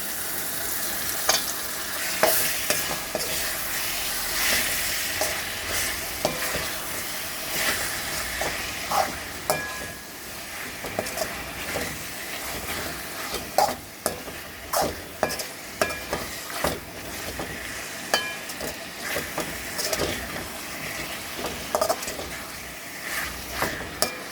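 Washed chicken pieces fry in a hot pan with a continuous sizzle, broken by frequent sharp scraping and clacking as a spoon stirs them, steady and close for the whole stretch.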